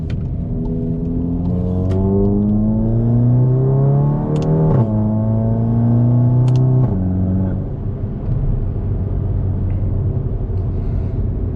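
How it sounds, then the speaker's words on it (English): VW/Audi car with a DSG gearbox accelerating through the gears, its engine note climbing then dropping at each quick shift, loud and close from inside the cabin with no talking. "rolling through the gears in this thing is fun"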